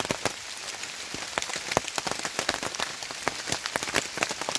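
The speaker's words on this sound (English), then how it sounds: "it is raining here at Allegany State Park" Steady rain patters on a small canopy at a campsite in Allegany State Park in the fall, with dense close drops and sharper individual taps standing out throughout.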